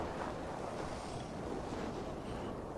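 Wind blowing in Assassin's Creed Valhalla before a storm, a steady broadband rush with a roaring low end, loud and continuous with no voices.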